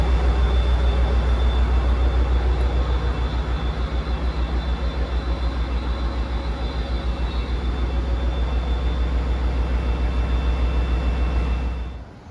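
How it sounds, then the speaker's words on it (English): Class 57 diesel locomotive 57604 idles at Paddington before hauling the Night Riviera sleeper to Penzance, a steady, loud low engine throb with a faint high whine, continuous and unchanging, then cutting off at the very end. "he saw Class 57 57604 Penn Dennis Castle preparing to take the Night Riviera to Penzance"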